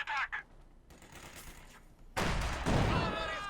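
Rapid gunfire and heavy weapon blasts from the Company of Heroes 2 war strategy game, a dense burst of firing that grows louder in the second half, with some speech mixed in.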